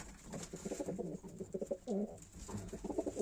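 Pigeons with a mouth infection coo steadily in a loft, a close, continuous chorus of soft rolling coos with no talk over them.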